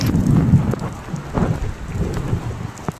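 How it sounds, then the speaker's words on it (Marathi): Rain pouring with rumbles of thunder onto a newly cast concrete roof, a steady wash of drops with low booming swells, close and fairly loud throughout. "ध्यानी मनी नसताना पाऊसच आला बघा"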